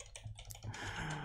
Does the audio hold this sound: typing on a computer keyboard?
yes